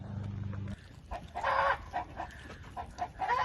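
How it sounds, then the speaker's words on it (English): Chickens and roosters on a farm, close clucking and squawking calls in short uneven bursts after a brief low hum, with no talk. "I tried to combine all the chickens and the roosters together."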